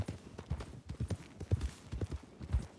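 Hooves clip-clop at a steady walking rhythm as a horse is ridden in a video game, a close, even beat of paired hoof strikes with no voices over it.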